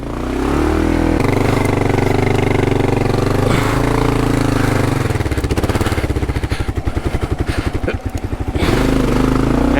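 Adventure motorcycle on Bridgestone AX41 tyres, its engine revving loudly off-road while the rear wheel spins, a harsh pulsing throb that rises and chatters, close and continuous throughout.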